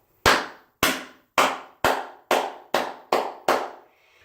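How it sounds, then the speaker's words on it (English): Eight sharp hand claps ring out alone in a steady, evenly spaced rhythm, each one loud and close with a short decaying tail. "first thing I want to do is clap."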